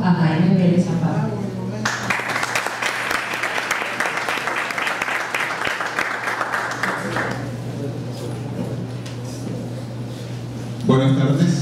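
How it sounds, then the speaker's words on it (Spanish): A conference audience applauds steadily for several seconds, dense clapping filling the room before fading out as a voice begins. "recibamos con un fuerte aplauso a Jaime Vélez Zapata"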